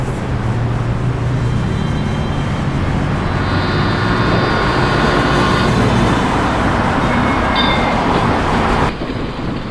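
Loud, continuous train rumble with a rolling rhythmic clatter and a rising tonal whine midway, used as a sound effect in a Bengali horror cartoon, cutting off abruptly near the end.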